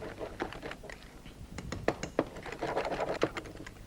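A whisk beating a strawberry soufflé mixture in a bowl until smooth, producing quick irregular clicking taps and scrapes, close and fairly quiet.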